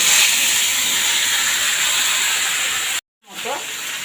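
Cut eggplant, potato, taro stems and papaya hit a hot pan with a loud, steady hiss and sizzle that briefly drops out, then resumes more softly.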